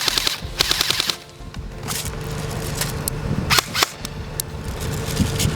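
A Lancer Tactical Gen 2 M4 airsoft rifle fires rapid full-auto bursts of sharp, close clacking shots, pausing briefly before more strings of shots over a steady mechanical hum.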